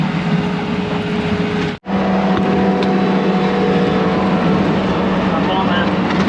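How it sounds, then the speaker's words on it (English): A Bobcat skid steer loader back-dragging topsoil on a pond tank dam gives a loud, steady diesel engine drone with a low rumble. The drone cuts out briefly once and then carries on unchanged. "Up on the tank dam with the skid loader."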